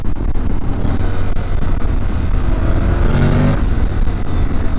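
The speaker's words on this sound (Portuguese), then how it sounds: "o ronco desse motor é muito legal, é muito legal" A Honda X-ADV motorcycle engine runs steadily and loudly close by at the Interlagos circuit, its low rumble holding with a brief rise in revs partway through.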